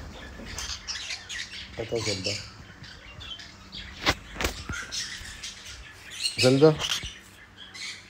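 Crows caw in scattered harsh calls, some close and some farther off, while a person speaks over them.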